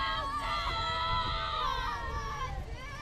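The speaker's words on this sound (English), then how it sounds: "The TAM team is cheering for Sophie right now." A softball team cheers loudly from the dugout during a high school game between Tam and San Rafael, a chorus of high-pitched shouts and sustained yells overlapping continuously.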